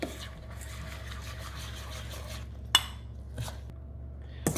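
Crumble dough for a raspberry crumble is mixed with melted butter in a bowl, giving quiet, soft scraping and squishing sounds with a couple of sharper clinks of the utensil against the bowl.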